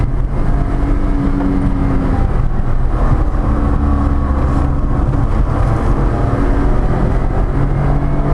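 A 1988 Honda Acty kei mini truck engine revs steadily and loudly as it accelerates in third gear, a continuous droning roar with no speech.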